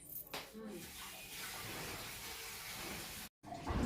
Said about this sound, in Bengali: এতক্ষণে একটু মুখে চোখে জল নেওয়ার সময় পেলাম বন্ধুরা।